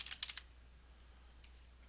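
Several quick, light keystrokes on a computer keyboard tap close up in a short burst, followed by a pause and one more isolated key click over quiet room noise.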